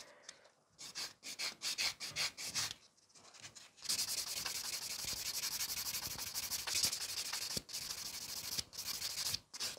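Nail buffer rubbing across a fingernail in rapid, close scratchy strokes, with short bursts at first and then steady continuous buffing, no talk.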